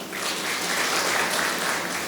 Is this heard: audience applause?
yes